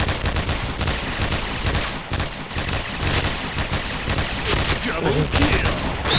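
P90 submachine gun fire in a first-person shooter video game, dense rapid bursts of shots that come across as a continuous rattle, mixed with game sound and a voice talking.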